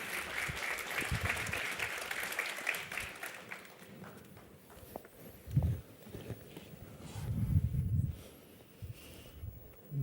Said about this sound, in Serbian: Pozdravite ih aplauzom.